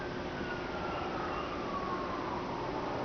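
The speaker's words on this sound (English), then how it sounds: "Now there's ambulances." Ambulance sirens wail at night, a steady, continuous rising and falling tone heard from some distance, alone without any voices.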